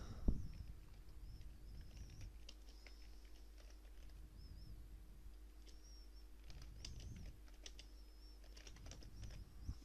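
Faint, scattered clicks of typing on a computer keyboard while entering text into a text area, soft keystrokes coming in short irregular runs over a quiet room hum.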